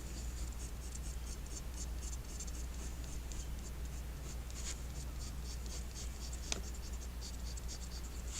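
A pencil traces drawing lines onto paper laid over a light table, making continuous faint scratchy strokes with a light rhythmic rasp under a steady electrical hum.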